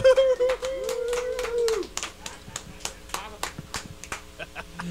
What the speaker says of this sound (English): We all clap for ourselves here on KW Judas.